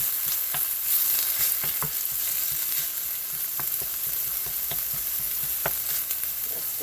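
Roasted ground beef being stirred in a hot pan, with a steady sizzle and frying hiss broken by repeated scraping and clacking strokes of a utensil, close and continuous with no talk.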